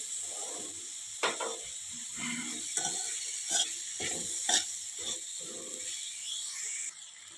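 Black val beans being sautéed in oil in a pan for a rustic village-style curry, giving a steady soft sizzle broken by several sharp scraping stirs and clinks, close by with no talking.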